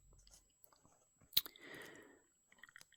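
A mint being chewed close to the mouth in a quiet setting, with one sharp crunch followed by a burst of soft wet chewing, then a few small clicks.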